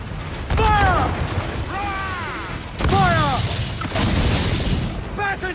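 Ship cannons booming in Assassin's Creed IV Black Flag, several heavy blasts in a loose rhythm amid crashing battle noise and shouting crew voices.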